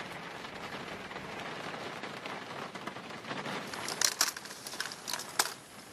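Rain falling steadily on heaps of discarded electronics left outdoors, a continuous patter with sharper crackling impacts near the end, no talk.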